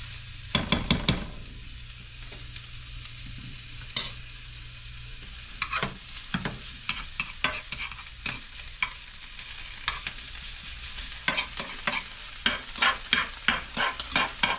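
Chopped spinach stirred in a frying pan, with a steady low sizzle under repeated sharp scraping and clattering strokes of a utensil against the pan, bursts clustered at the start and toward the end.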